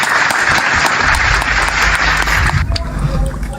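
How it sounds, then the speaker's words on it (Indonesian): Audience applause fills a hall after a speaker named Akhi Sugi finishes a talk on the Bible, a dense, steady clapping texture that holds throughout and thins slightly toward the end, with some crowd noise mixed in. "Tepuk tangan untuk Akhi Sugi"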